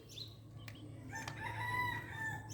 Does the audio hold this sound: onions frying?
no